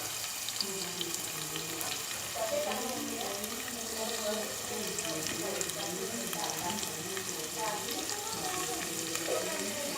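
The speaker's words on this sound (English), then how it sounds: "Yeah, so I just saute it, my onions and green peppers, without the spice." Onions and green peppers sauteing in about a tablespoon of oil in a pot during outdoor cooking, a soft steady sizzle with light stirring, fairly faint under background voices and ambient household noise.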